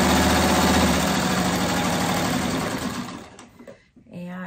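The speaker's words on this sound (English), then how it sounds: "old 1591 Singer sewing machine again." A vintage Singer 1591 sewing machine runs steadily with a rapid mechanical chatter and hum, then slows and stops near the end; a voice is faintly present.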